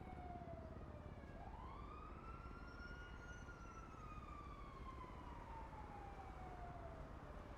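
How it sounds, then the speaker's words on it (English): A police siren in a NoPixel GTA roleplay game wails nearby, sweeping up and then slowly falling in a long continuous tone, fairly faint and alone with no talk. "I do hear a lot of sirens nearby too."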